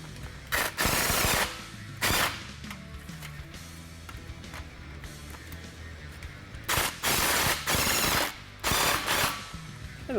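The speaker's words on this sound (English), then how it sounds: "Okay, we'll tighten these clamps next." A ratchet tightens stainless steel exhaust clamps on an aFe 3-inch cat-back dual side-exit exhaust fitted to a Ford F-150 Raptor. It gives several short bursts of rapid, close clicking, separated by quieter gaps.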